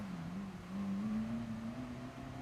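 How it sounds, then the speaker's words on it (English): Racing car in the GT Sport video game, a steady engine drone with a rising pitch as it runs close behind the player, continuous throughout with no talk. "why is there a car behind me there?"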